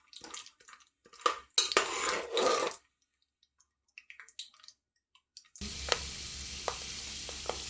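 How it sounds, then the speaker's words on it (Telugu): Dry fruits frying in hot ghee for a dalia sweet, a soft sizzle with scattered clicks of a spoon against the pan, broken by a quiet pause, then steady close frying hiss with a few sharp taps. "నెయ్యి మరిగింది ఫ్రెండ్స్. ఇది డ్రై ఫ్రూట్స్ వేసుకున్నాం"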